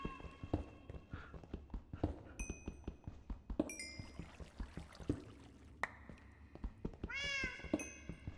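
A Minecraft cat meows several times in quick, clear bursts, close and distinct over soft in-game footsteps and scattered clicks.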